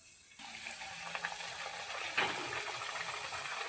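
Ragi poori dropped into hot oil sets off a sudden, steady frying sizzle that stays close and even, with a few small crackles and a brief bubbling surge partway through, with no voices.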